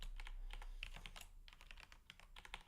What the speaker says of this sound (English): not typing so well today